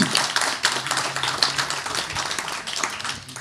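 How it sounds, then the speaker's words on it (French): Audience at an event on gender equality clapping for a speaker about to address them, a steady patter of many hands at moderate level, close and continuous. "je vous l'encourage à l'applaudir"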